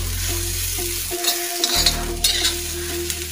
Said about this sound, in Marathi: याच्यानंतर मी खोबरं भाजून घेणार आहे।